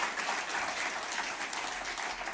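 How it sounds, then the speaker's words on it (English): A crowd applauds, dense steady clapping from many hands that fills the room throughout, with no voices over it. "Give everybody a round of applause who has contributed."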